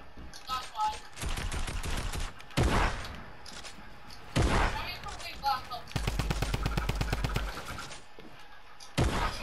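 Gunfire in the Fortnite video game: several loud bursts of rapid automatic fire, including one long rattling volley, are broken up by single heavy shots and a voice talking in between.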